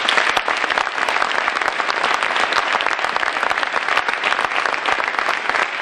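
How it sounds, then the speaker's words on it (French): An audience at a business-network gala evening applauds. The clapping is dense and sustained, loud and close, and keeps an even level from start to finish. "Je vous remercie de les applaudir."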